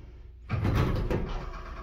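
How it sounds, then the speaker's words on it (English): A 1979 Dover hydraulic elevator's clickety-clack door operator starts up after a short quiet lead-in, then runs with a steady, close rumbling mechanical clatter and a distinct clunk partway through. "Got the clickety-clack door operator."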